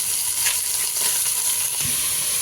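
Mutton pieces frying in a pan for sambar, a loud, dense, continuous sizzling hiss up close with no break.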